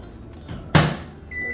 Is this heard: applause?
no